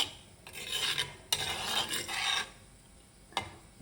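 Rice mixed with prawn gravy being stirred in a clay pot, a few scraping, rasping strokes in bursts with short pauses and a couple of sharp knocks, close and fairly quiet.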